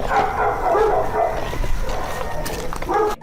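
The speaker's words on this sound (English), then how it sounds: "Dog howls can be heard resembling the crying" A dog howls and whimpers in drawn-out, wavering cries, fairly loud and close, with a few sharper yips near the end.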